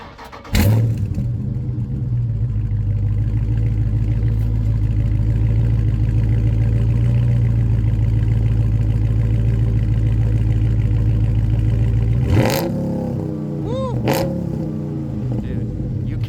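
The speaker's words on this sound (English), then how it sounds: "So he's going to give us a couple of exhaust clips here." A Dodge Charger 392 Daytona V8 idles with a deep, loud, steady exhaust rumble close by, then sharp throttle blips rise and fall near the end.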